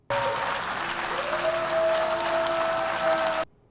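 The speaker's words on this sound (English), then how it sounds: "We have visitors cheering." Visitors to the United Nations clap and cheer in a sustained round of applause that swells and then cuts off abruptly, with a steady tone ringing faintly underneath.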